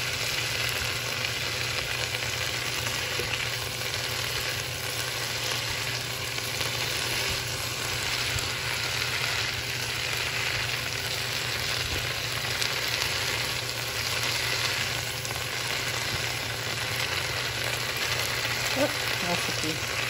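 Shredded cabbage stir-frying in a little olive oil, a dense, constant sizzle heard up close throughout.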